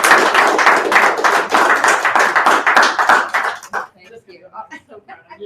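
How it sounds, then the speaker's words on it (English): A small group at a celebration for a Strongbrook bonus claps in a brisk, dense burst close by, then the clapping thins to a few scattered claps and fades out near the end. "we need to give you a big round of applause"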